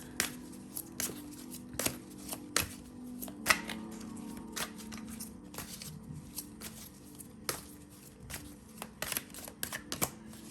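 Healing and Clarity oracle cards being shuffled for a pick-a-card reading: quiet, close riffles and sharp snapping card flicks scattered irregularly over a low steady background hum, with no talking.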